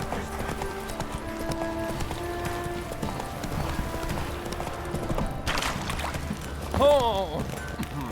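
Horse galloping in The Witcher 3, a steady clip-clop of hooves running through the whole stretch under game music, with a brief whinny-like cry near the end.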